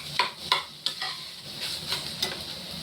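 Bottle gourd, its seeds gone soft, being stirred in a frying pan, with a few distinct scraping strokes over a soft, steady sizzle, close up and with no talking.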